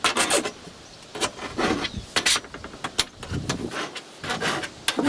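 A hand file rasps across the teeth of a rusty saw being sharpened, close up, in a series of short rubbing strokes with brief pauses between them.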